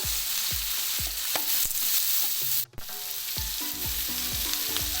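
Chicken roast masala with green chillies, rock salt and turmeric sautéing in a pan, giving a steady broadband sizzle broken by repeated knocks of a spoon against the pan, with one brief dip near the middle.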